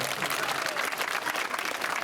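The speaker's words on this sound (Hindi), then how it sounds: "ताली बजाओ अगर ठीक किया।" Crowd of villagers clapping at an outdoor Lok Sabha 2024 election rally in Haripur, a steady wash of applause from many hands, moderately distant and even throughout.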